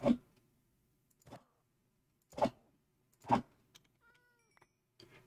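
A Minecraft cat meows several times in short, soft calls spaced a second or so apart, with faint clicks in between.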